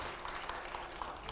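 Studio audience clapping on a television quiz show, a fairly faint, even patter of many hands that keeps going throughout.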